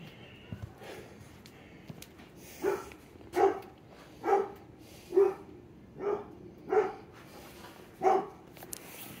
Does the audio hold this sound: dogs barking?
yes